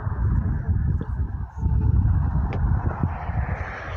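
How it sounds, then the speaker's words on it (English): A steady low rumble of a jet engine in the distance at Bournemouth airport, broad and continuous like an airliner idling or taxiing after pushback, with no voices. "Oh look, Uncle Stephen, look, you got that plane there, the Ryanair one's just pushed back."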